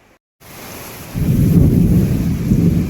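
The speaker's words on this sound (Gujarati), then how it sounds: "કેટલી વીજળી થાય છે ક્યારની, એટલી વીજળી" A heavy thunderstorm over Surat at night: a brief quiet gap gives way to steady rain, then a deep rumble of thunder builds and rolls on, loud and close, under the continuing downpour.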